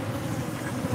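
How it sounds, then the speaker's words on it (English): Bees buzz in a steady, continuous drone around a hive area, dense and close, with no talking. "lightly doing this in the air primarily to knock down the bees"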